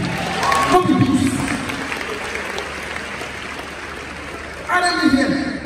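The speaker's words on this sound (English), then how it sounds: "Clap for him." Audience applause for a Nigerian comedian at a live comedy show, a loud burst of clapping and crowd noise at the start that fades to a steady murmur, then swells again near the end.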